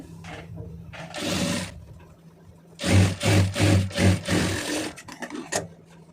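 A sewing machine stitches piping, running in short bursts: one burst early, then a longer stretch of rapid, loud stitching broken by brief pauses, with a faint hum between runs.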